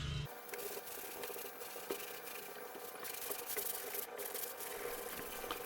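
Steady, close scratchy rubbing of a 320 sandpaper pad against primer on a boat hull, continuous with small variations in stroke, no talking.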